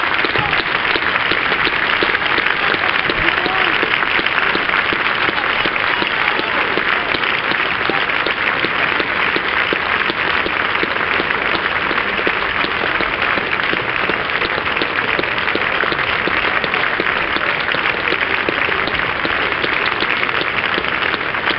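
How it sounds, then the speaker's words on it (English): Sustained applause from a cricket crowd at the end of a Sussex Sharks versus Gloucestershire one-day match, a dense, continuous wash of clapping that holds steady and loud for over twenty seconds without pause. "Let's listen to the applause."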